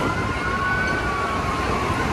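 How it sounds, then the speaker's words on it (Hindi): Fire brigade vehicle siren wailing steadily as it passes, a continuous rising and falling tone over street noise and a dense traffic rumble, fairly loud and unbroken with no talk. "फायर ब्रिगेड्स वालों की भी गाड़ी आ रही है"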